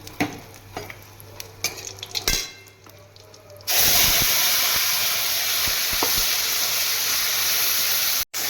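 Ground spice paste fries in hot oil with five-spice, bay leaf and asafoetida for a white shukto, first as light stirring clinks, then a sudden loud, sustained sizzle and hiss that fills the rest until a brief cutoff near the end.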